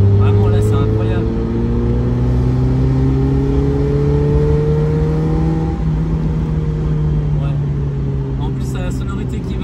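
A Mazda MX5 NA engine pulls through the gears while driving, its buzzy mid-pitched note rising steadily, easing off and rising again, loud and close from inside the car.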